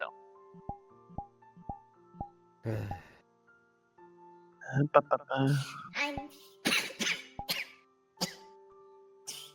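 A few rough coughs and throat clearing break out close by in the game Overwatch, mixed with short bursts of voice after a series of faint beeps.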